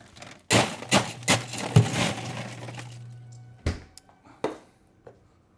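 Ice scooped for a bourbon cocktail, heard as a series of sharp clattering cubes knocking and crunching together, several loud hits in the first two seconds and then a few scattered clinks, with a low hum running underneath.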